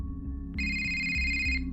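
An electronic phone ringtone trills steadily and fairly loud in a repeating pattern, with nothing else heard.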